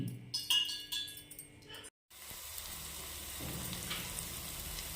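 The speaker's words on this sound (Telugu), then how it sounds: "ఒక 2 ఆనియన్స్ సన్నగా తరిగి నేతిలో ఫ్రై చేస్తున్నానండి" Finely chopped onions frying in ghee, a steady close sizzle that follows a few clinks and a brief pause, then runs on evenly.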